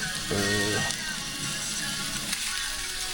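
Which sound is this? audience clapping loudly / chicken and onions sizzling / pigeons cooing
chicken and onions sizzling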